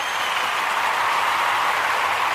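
A steady, dense round of applause fills the space from start to finish, with many hands clapping together at an even loudness and no break.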